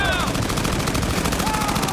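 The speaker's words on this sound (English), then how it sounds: "You can actually hear the difference between each gun." Rapid machine gun fire in the Battlefield: Bad Company 2 video game, a continuous close burst of rattling shots filling the whole moment, with faint whistling tones drifting over it.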